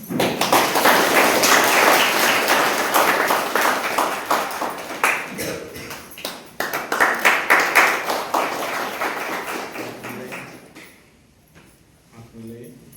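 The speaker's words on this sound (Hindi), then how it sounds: "ताली मारेंगे अभी" Wedding guests in a church applaud together in a dense burst of clapping that swells and then fades out near the end, with voices speaking over it.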